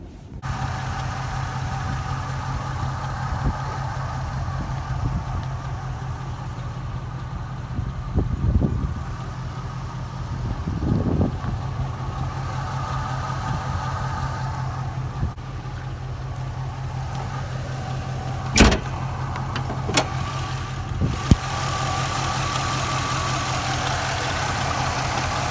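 A Jeep WJ engine idles steadily on its own, a low even hum with a faint mechanical tick, broken by a couple of brief sharp clicks near the end.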